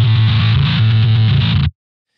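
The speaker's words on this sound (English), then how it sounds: "Now that is what I call a metal piano." A synth piano with an arpeggiator, run through a guitar amp for a heavily distorted metal tone, churns in a dense rapid pattern for under two seconds before cutting off abruptly into silence.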